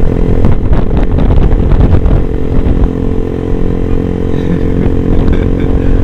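A carbureted Kawasaki 175 motorcycle ridden fast: a loud, close, continuous raspy engine drone with rattling clatter, steady throughout with slight dips in revs.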